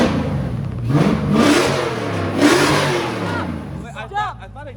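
A Jeep's Hemi V8 engine revs loudly and close up in a couple of rising, roaring bursts over a rumbling idle, with a voice briefly heard near the end.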